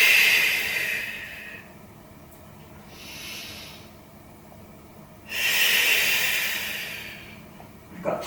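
A person breathing in and out during a Pilates workout, long audible breaths close to the microphone, a strong exhale at the start and again midway with quieter breaths between.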